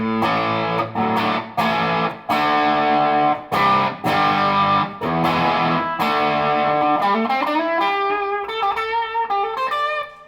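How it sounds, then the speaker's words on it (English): Electric guitar through a two-stage Gladio fuzz distortion pedal, loud saturated chords struck in choppy bursts with short gaps, then a sustained bending note ringing out and fading near the end. "That's why I have my distortion. It's a Gladio. It's a two-stage Gladio."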